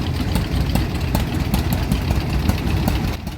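A tractor engine idles with a low, rough rumble and faint ticking at a rose festival parade in Tyler, Texas, holding an even level throughout with no voices.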